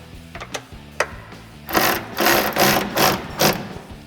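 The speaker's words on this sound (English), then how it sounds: "I'm going to tighten these bolts up right here" A ratchet wrench tightens running board bracket bolts on a 2021-2023 Ford Bronco, a few isolated clicks and then several quick bursts of close, rapid ratcheting.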